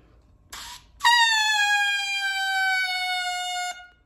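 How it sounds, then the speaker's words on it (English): A lone oboe double reed, played without the instrument, sounds a short squeak, then a single buzzy, bright sustained tone that slowly sags in pitch before stopping. "That's kind of what our oboe reed sounds like"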